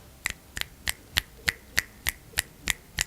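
Ten crisp finger snaps ring out one after another at an even pace of roughly three per second, sharp and close, with near silence between them.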